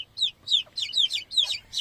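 A young rooster kept in a backyard poultry flock gives a rapid series of short, high clucking calls, close and fairly loud, with nobody speaking.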